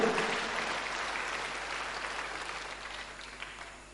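Sustained applause from a church congregation, a dense crowd clapping that fills the space and slowly tapers off toward the end, with no clear speech above it.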